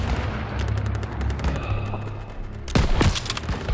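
Bursts of rapid gunfire in Call of Duty WW2 during a courtyard firefight, a steady rattle of shots followed by a louder, harder volley near the end.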